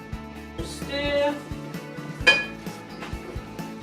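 Flour and salt for walnut bread being stirred in a bowl, heard as a series of close, hard clinks and scrapes of a utensil against the bowl with a louder knock midway.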